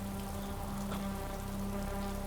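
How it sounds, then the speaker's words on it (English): Steady rain falls on a surface on a wet day in the Alps, a constant even patter heard close and moderately loud throughout, with no voices. "It's super rainy."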